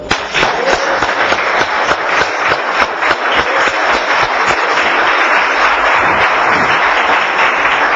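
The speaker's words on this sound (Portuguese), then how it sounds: "Quem recebe, aplaude o Senhor." A church congregation bursts into loud, sustained applause, many hands clapping densely for several seconds at close range with little else audible.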